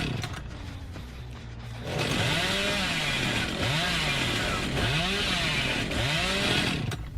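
Hillbilly's chainsaw revving in Dead by Daylight during a league match, a loud sustained buzzing roar that rises and falls in repeated revving swells after a quieter opening, with no talk over it.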